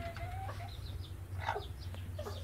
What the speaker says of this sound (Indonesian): ini anak ayam yang baru menetas